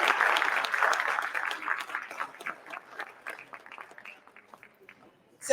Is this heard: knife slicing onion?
no